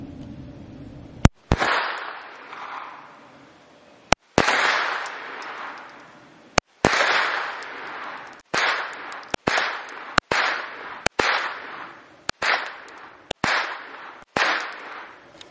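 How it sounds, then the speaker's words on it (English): A rifle fires ten rounds downrange outdoors, sharp loud cracks spaced a second or two apart, each followed by a rolling echo that fades before the next shot. "I'm just going to sling 10 rounds downrange."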